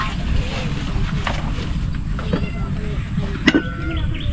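A cat meows briefly outdoors near a vegetable garden, one short mew about midway over a steady windy background, with people talking around it.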